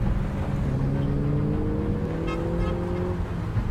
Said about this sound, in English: And then we have this car chase